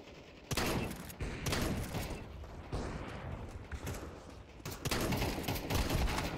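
Rapid automatic weapon gunfire in Counter-Strike 2, loud close bursts and sustained sprays firing repeatedly across the whole stretch with brief pauses between volleys.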